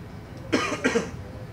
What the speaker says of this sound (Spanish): La verdad que la tos saca uno de balance.